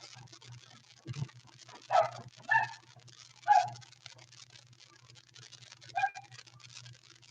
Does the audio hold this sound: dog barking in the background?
yes